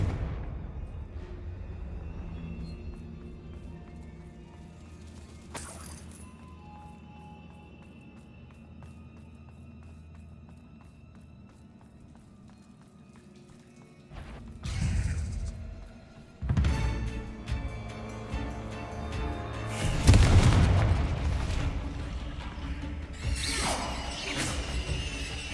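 In Hogwarts Legacy, a Confringo spell is cast: a quiet stretch of ambience gives way to several sharp swooshing bursts and crashes, the loudest near the end, with no talk.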